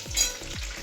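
Whole spices for a Bengali mutton kosha crackle in hot oil, a brief close sizzle with a dull low thump or two underneath.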